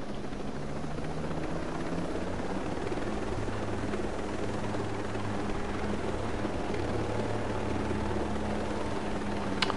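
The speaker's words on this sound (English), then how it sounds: "Oh, it must have been the drone thing." A drone flies overhead in the video game Ghost Recon Breakpoint, giving a steady, continuous rotor-like drone that stays at a constant level for about ten seconds, with no voices over it.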